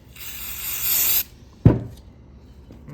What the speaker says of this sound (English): I'm just gonna spray this down real good here